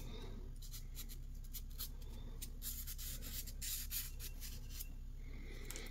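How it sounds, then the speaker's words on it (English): Folded sandpaper rubs back and forth by hand in quick, faint, rhythmic rasping strokes, close up and otherwise quiet. "sand it a few more times back and forth"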